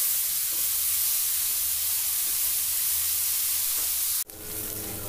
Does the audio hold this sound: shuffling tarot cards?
no